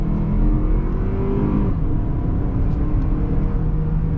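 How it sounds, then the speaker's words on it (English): A 2023 Toyota Highlander turbo engine accelerating hard onto a highway, a steady loud engine roar and road noise with a faint rising whine as the turbo spools, heard from inside the cabin. "you can hear the turbo spooling as you take off"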